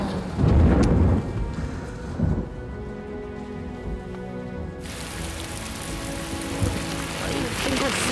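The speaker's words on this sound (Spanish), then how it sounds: "Ay, va a llover." Rain falls heavily with a loud crack and rumble of thunder early on, followed by a steady rain hiss and a fainter rolling rumble that continues to the end.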